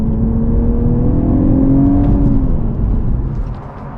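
An Infiniti Q50S hybrid fitted with a Takeda AFE intake launches hard, its engine droning loud and steady with a rising harmonic whine before easing off near the end.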